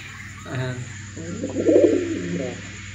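A tame pigeon coos close by, with a soft short call followed by a louder, rolling throaty coo over steady low background hum.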